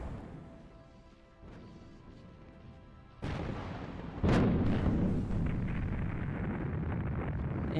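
Starship weapons fire in the space combat game Nexus: The Jupiter Incident, with heavy booming blasts building into a dense, continuous roar of impacts and explosions that grows louder partway through.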